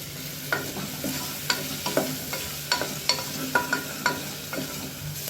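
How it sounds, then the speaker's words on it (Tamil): Tomatoes and softened onions being sautéed in a pan for a vegetable white kurma, with a steady low sizzle and repeated sharp scrapes of a spoon stirring, close and alone. "இப்போ தக்காளி சேர்த்து நல்லா வதக்கியாச்சு."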